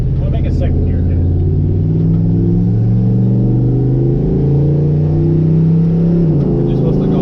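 A drag truck accelerates hard through a second gear hit, its engine a loud, close, continuous rumble that climbs steadily, with a brief dip and shift near the end.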